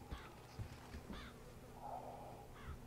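In the video game Bioshock Infinite, crows caw faintly and intermittently over a low ambient backdrop in the floating city of Columbia, with several scattered calls across the moment.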